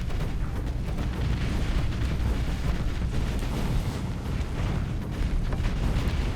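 Weapon fire pounds a fleet of ships in the space strategy game Starsector, a dense, continuous barrage of booming impacts and rumbling explosions with no pauses.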